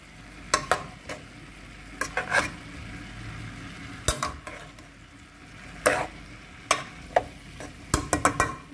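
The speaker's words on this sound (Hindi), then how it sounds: "कुटी हुई लाल मिर्च डाल देंगे, मिक्स कर लेंगे।" Chicken BBQ rice with crushed red chili being stirred in a pan, a spatula knocking and scraping the metal in scattered sharp strikes over a steady low sizzle, close up with no talking.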